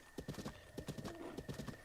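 Hooves clatter quickly and closely in Zelda: Breath of the Wild, with a horse's whinny rising over the steady clip-clop midway through.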